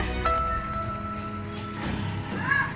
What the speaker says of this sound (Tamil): தண்ணி கொஞ்சமாக சேர்த்துக்கிட்டு மாவு நல்லா கரைச்சிக்கோங்க